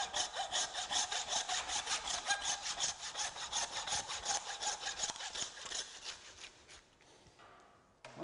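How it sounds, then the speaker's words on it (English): A handsaw cuts through a beef H-bone during rump butchery, making steady rhythmic rasping strokes that repeat quickly and evenly for several seconds, close up and moderately loud, then trail off. "Then we get the handsaw and saw through"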